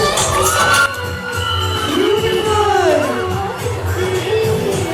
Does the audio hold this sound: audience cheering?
yes